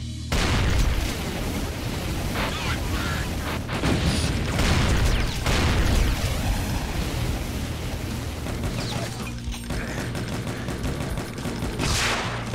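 Dense, continuous gunfire and booming explosions from the Brutal Doom shooter game fill the whole stretch, loud and unbroken, with no talking over them.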